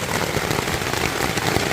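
Rain drums on a backpacking tent in the Porcupine Mountains, a dense continuous patter of drops hitting the fabric close by, fairly loud and steady throughout.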